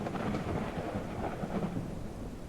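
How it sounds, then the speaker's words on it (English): Rolling thunder in the video game Snow Plowing Simulator, a loud, sustained low rumble lasting throughout with a faint rain-like hiss over it, no voices. "That's thunder, isn't it?"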